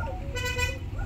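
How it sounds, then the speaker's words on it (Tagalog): Horn of an Isuzu Trooper with a 4JX1 engine, just after an overhaul, honking in one steady, moderately loud tone near the middle of a brief moment, with a low engine or background rumble throughout. "Busina, meron na."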